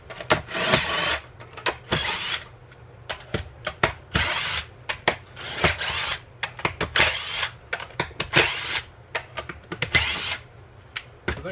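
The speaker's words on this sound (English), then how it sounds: "Now I'm going to take my slide mechanism out. Just matter of loosening a few screws." Screws being loosened on the slide mechanism of a hole jig machine, heard as a run of short, close power-driver bursts and clicks repeating irregularly, with no talking.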